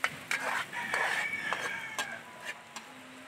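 A rooster crows loudly nearby in Malita, Davao Occidental, a drawn-out cock-a-doodle-doo, with a few other short clucks and farmyard noises around it.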